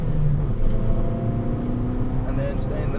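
A Fiat Abarth 500 accelerating hard on the Mondello Park national circuit, its engine droning loudly and steadily from inside the car while an instructor talks over it.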